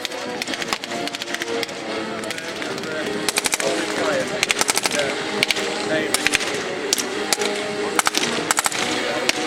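Machine gun fire at a Tankfest 2015 assault demonstration rattles in repeated loud bursts of rapid shots over a steady outdoor din, with bursts recurring every second or two across the whole stretch.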